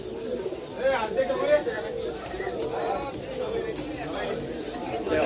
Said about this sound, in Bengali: এগুলো কিন্তু সম্পূর্ণ মাদের খাঁচা মাদের খাঁচার কবুতরগুলো আমি দেখাচ্ছি